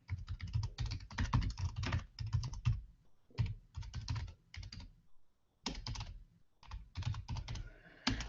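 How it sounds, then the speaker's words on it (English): Quick bursts of typing on a computer keyboard as a URL is entered, clattering keystrokes close by in uneven runs separated by short pauses. "Now you type in a URL that you want to send people to."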